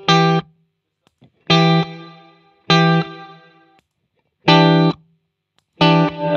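Electric guitar chords struck one at a time in a slow pattern through a One Control pedalboard reverb, each ringing out with a reverb tail.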